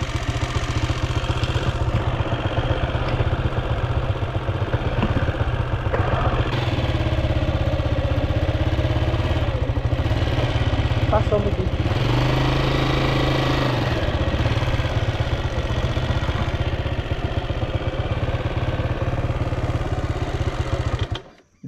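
A motorcycle engine idles steadily nearby, a constant low throbbing rumble on a dirt road that holds for about twenty seconds before cutting off at the end.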